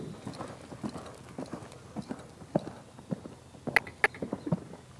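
A horse galloping in a riding arena and changing lead, with rhythmic hoof beats in steady triple-time groups, moderately close, a few sharper thuds near the end.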